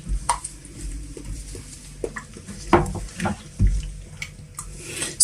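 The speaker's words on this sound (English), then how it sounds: "all you do, you add it into your soap and you mix together" Clear hydroquinone solution is poured into liquid soap and stirred together, giving intermittent close-up liquid splashes and light clinks of a container, with no talking.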